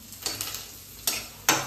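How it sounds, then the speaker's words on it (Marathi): An onion frying in a pan is stirred with a utensil, giving a soft background sizzle and a few sharp scraping clinks of spoon on pan, two of them louder near the end, with no talking. "आता ऑलमोस्ट कांदा भाजत आलाय"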